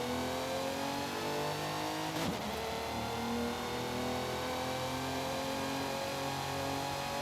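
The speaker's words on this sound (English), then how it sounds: "I like racing this car." Auto Union Type D racing car engine in a racing game, droning loud and steady with a high harmonic whine and a brief shift or rev change partway through.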